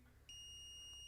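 A multimeter continuity-test beep starts abruptly and holds a single pure electronic tone, faint and close, with no other sounds around it.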